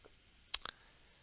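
A computer mouse gives a quick pair of faint right-clicks, close and isolated against near silence.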